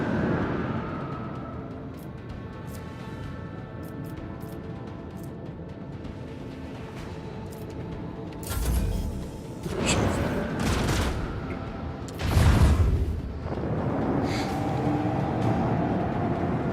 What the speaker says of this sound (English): Launch torpedo.